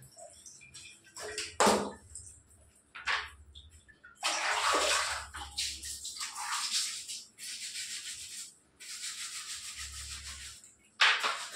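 Hot water for a bath runs and splashes in uneven bursts, some loud and close, with short quiet gaps between pours and no one talking.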